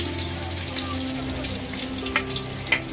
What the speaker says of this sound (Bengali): तो पिंयाजगुलो ভালোভাবে ভেজে নেওয়া হচ্ছে।